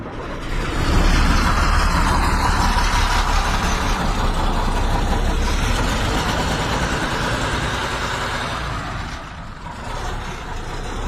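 A Tatra T111 truck engine runs steadily and loudly up close, a dense, rough diesel rumble that holds its level without pause.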